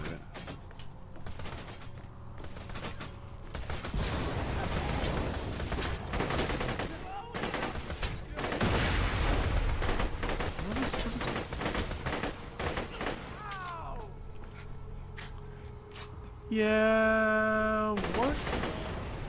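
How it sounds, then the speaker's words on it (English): Enemy gunfire in Borderlands 2: dense, sustained bursts of rapid shooting and fusillades, loud and continuous throughout, with a voice briefly talking over it and a tonal game effect near the end. "Shit shooting at me up there."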